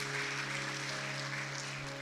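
A church congregation applauds during a sermon, with dense, steady clapping filling the room over a sustained held musical tone for the whole stretch.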